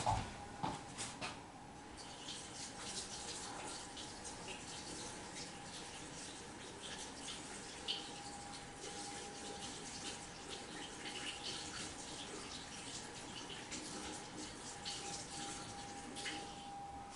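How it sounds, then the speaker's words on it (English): A paintbrush is rinsed under a running tap, giving a faint, continuous stream of water that lasts the whole stretch with only small splashy bumps. "So I'll just rinse off my brush real quick and let that dry for a minute."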